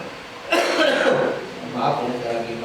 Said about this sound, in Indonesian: maaf ya saya lagi batuk ya